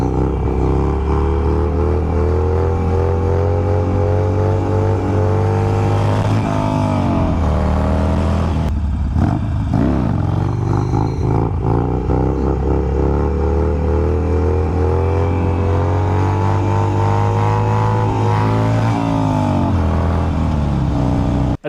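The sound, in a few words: Harley-Davidson Sportster motorcycle on a test ride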